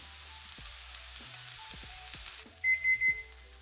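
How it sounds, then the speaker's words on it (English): Vegetables and cauliflower rice fry steadily in a pan with a continuous soft sizzle, broken by a few muffled stirring knocks; near the end a short run of high electronic beeps sounds over it. "continue to let this cook for about 2 minutes, stirring occasionally just to ensure nothing burns"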